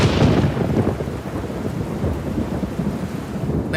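Heavy rain pours steadily and loudly, with a deep thunder rumble at the start fading into a dense, continuous downpour.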